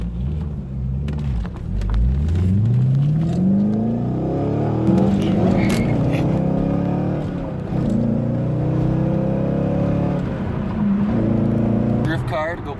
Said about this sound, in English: gonna go play with this UDI RC 1601